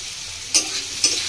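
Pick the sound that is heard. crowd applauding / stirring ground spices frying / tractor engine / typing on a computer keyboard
stirring ground spices frying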